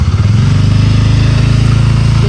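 A motorcycle engine runs close by with a loud, steady, pulsing thrum at an even idle-like rhythm, and no voices sit over it.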